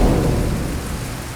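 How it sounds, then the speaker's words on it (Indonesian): Heavy monsoon-season rain pours down in a dense, steady roar with low rumbling thunder underneath, loud and close throughout with no voices. "Waktu itu musim hujan deras banget."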